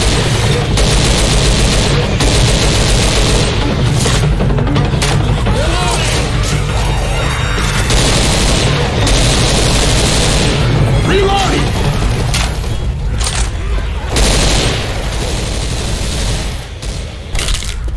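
Grenade explosions and gunfire fill a Left 4 Dead firefight, with dense bursts of shots and booms running loud and continuous throughout, mixed with in-game voices shouting over the chaos.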